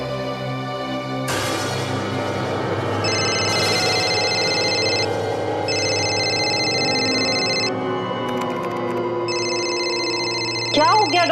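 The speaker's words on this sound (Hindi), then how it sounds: "फोन क्यों नहीं उठा रहे?" Telephone ringtone in a CID crime drama episode, repeating electronic ringing bursts in a steady pattern over background music and ambience, with brief pauses between rings.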